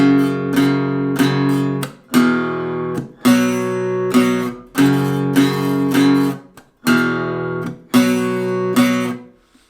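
Strummed guitar chords playing the break section of a song in a repeating rhythmic pattern, bursts separated by short gaps, bright and close, played alone without any voices.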